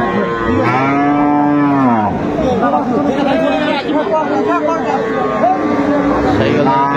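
Cows with calves mooing at the Aftabganj cattle market, several long, deep moos near and farther off, mixed with the chatter of buyers and sellers.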